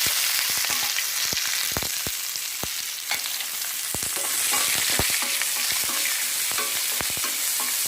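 Onions with salt sizzle steadily in a hot pan for a fish curry while a spoon scrapes and stirs them in quick, irregular strokes, close and loud.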